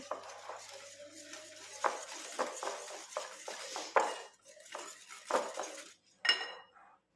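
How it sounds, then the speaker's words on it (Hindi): A spoon mixes gram flour batter with spices in a bowl, giving a close series of irregular scrapes and clinks against the sides, with short pauses between strokes. "हम इन सब चीज़ों को अच्छी तरह से मिक्स कर लेंगे"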